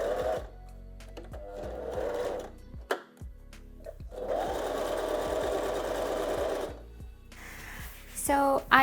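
A sewing machine hems one side of a thrifted fabric strip in two sustained, even runs that whir loudly up close, with a short pause and handling clicks between them, and a brief noise at the end.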